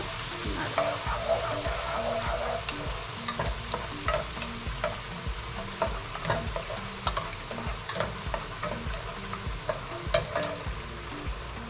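Finely chopped onion and carrot sautéing in a pan for chicken biryani: a steady, close sizzle with constant scraping and ticking of a spatula stirring throughout.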